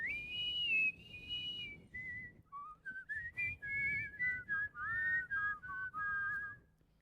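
Two people whistle together in harmony, close and clear, with a sustained opening phrase followed by a series of short, varied melodic notes with brief pauses between them.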